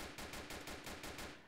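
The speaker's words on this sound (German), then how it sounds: "Ey, der schießt auf mein Fahrzeug." A video game car comes under rapid gunfire: about nine loud, evenly spaced bursts rattle off in quick succession over steady background noise, with no talk.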